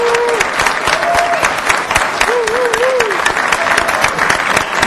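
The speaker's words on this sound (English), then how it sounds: "Let's give him a round of applause." A city council meeting audience applauds a high school football coach, loud dense clapping held throughout, with a few voices and brief whistles or calls rising over it.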